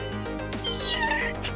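A kitten in the video game Ghost Trick Phantom Detective gives a short, high, clear meow, then a second rising one, close and alone over a faint steady game background.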